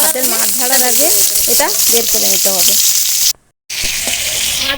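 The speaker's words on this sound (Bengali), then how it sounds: "মাছের জলটা গরম হয়ে গেছে এখানে চিংড়ি অল্পটা এখানে চিংড়ি মাছটা দিলাম" Fish and prawns sizzling in a hot pan, a steady loud crackle of frying under a voice talking, cut by a brief silent gap before the sizzle resumes.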